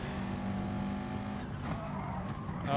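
Car engine in Gran Turismo Sport droning steadily, then tires locking up under hard braking with a brief skidding squeal as the engine note drops away.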